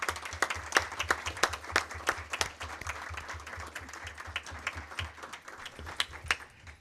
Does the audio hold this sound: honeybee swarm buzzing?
no